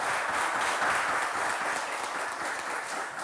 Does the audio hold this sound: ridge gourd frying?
no